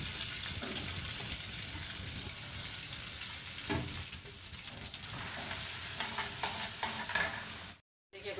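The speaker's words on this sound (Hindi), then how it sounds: "अब ये प्याज, चलिए देखिए प्याज इसमें डालूँगी।" Onions frying in butter in a pan give a steady, close sizzle with occasional stirring scrapes, and the sound cuts out briefly near the end.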